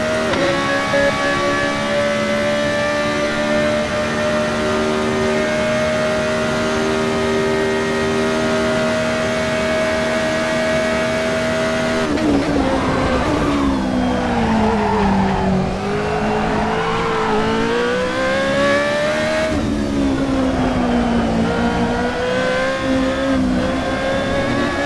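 Formula Renault 3.5 single-seater race car in the Assetto Corsa sim, its engine holding a steady high-pitched whine before rising and falling through gear changes and corners, with tyre squeal, loud and continuous throughout.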